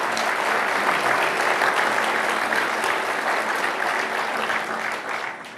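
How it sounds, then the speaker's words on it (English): Steady, dense applause from an audience at a 2015 City of Edmonds State of the City event, loud and sustained throughout before tapering slightly at the end, with no talking over it. "Let's give them another round of applause."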